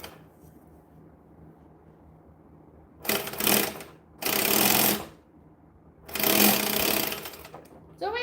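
A sewing machine stitches along the edge of a bag in three loud, rapid bursts separated by quiet pauses, close by, with a fourth burst starting at the very end.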